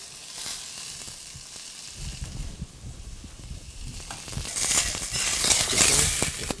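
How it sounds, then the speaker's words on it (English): Stuffed deboned quail sizzles and crackles in a hot pan, a steady close frying hiss that swells louder in the second half as the bird is moved around, with scattered pops and scraping. "when I put it in the pan, I move it around just to make sure that it's not going to stick."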